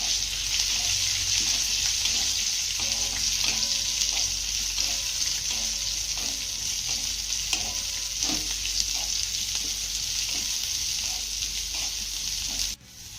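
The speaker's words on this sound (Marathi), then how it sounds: "यामध्ये घालूया गवार त्यानंतर ही गवार आपल्याला चांगली भाजून घ्यायची आहे" Cluster beans frying with cumin in a pan over a medium flame for a spicy thecha, a close steady sizzle broken by repeated stirring scrapes and taps.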